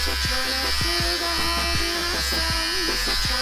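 An electric hair trimmer cutting hair makes a steady, close, loud buzz whose pitch wavers as it moves through the hair for the whole stretch.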